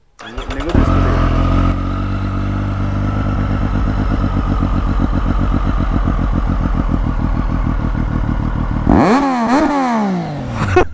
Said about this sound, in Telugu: సూపర్ బైక్స్ లో సౌండ్ ఉంటుంది కదా దట్ ఈస్ నెక్స్ట్ లెవెల్